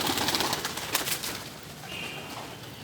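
A breeder pair of Qasid pigeons gives soft, low cooing, faint against a hissy background with a little fluttering, lasting only a few seconds.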